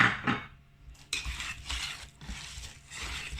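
Flour, baking powder and salt being mixed in a bowl for homemade Turkish poğaça dough, giving repeated scraping, clinking strokes in a steady rhythm, close and fairly loud, with no talk.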